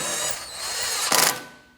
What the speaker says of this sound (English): we are going to be using our T30 to mount the rotor